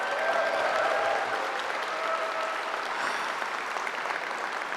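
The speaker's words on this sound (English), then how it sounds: "Everyone give a big round of applause to Aaron Forsythe." Steady, dense applause from a large crowd at a PAX convention Magic: The Gathering panel, sustained at an even level throughout with a faint murmur beneath.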